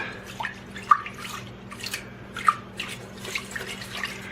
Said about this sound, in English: Rinse the rice until it's clean.